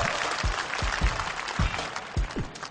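A magic show audience applauds after a card trick, giving a continuous wash of clapping at moderate distance, with soft low thumps recurring every half second or so underneath.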